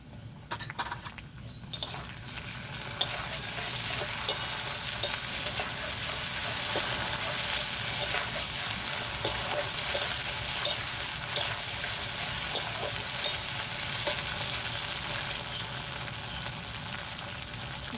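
Coriander and cumin paste sizzles and fries with browned onions in a pan for a village-style chicken kosa, a steady close hiss with occasional stirring clinks.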